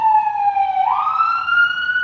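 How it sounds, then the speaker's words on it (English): An ambulance siren wails steadily at a distance in New York City, its tone holding then rising in pitch, with no voices over it. "I hear that fire alarm or ambulance"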